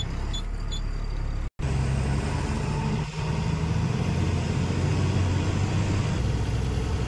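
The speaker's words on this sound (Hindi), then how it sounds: "गाड़ी करते हैं स्टार्ट और निकलते हैं यहाँ से।" A car engine starts after a brief gap and then runs steadily as the vehicle pulls away, a continuous mid-low rumble close by with no talking, on a road trip through Madhya Pradesh.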